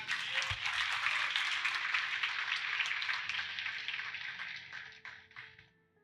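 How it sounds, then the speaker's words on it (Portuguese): A church congregation applauds during a worship service, a dense broad wash of clapping that holds steady for several seconds and then thins and fades out near the end. "Você pode aplaudir ao Senhor aí?"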